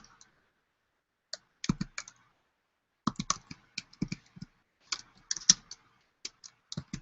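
Someone types on a computer keyboard, entering a title: irregular bursts of crisp key clicks with short pauses between words, close and fairly quiet in an otherwise silent room.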